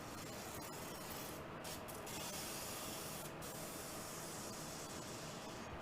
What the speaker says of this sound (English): The thing I love about the spritzer too is no matter how you hold it, the oil always comes out of it.